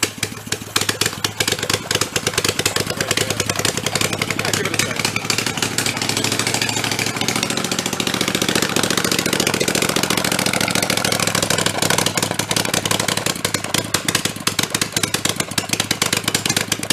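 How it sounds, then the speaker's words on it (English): A trashed Kohler engine idles close by with a rapid, rough, clattering putter and a steady beat, running loud throughout with a slight rise in pace midway. "I might go over and turn the idle up a little."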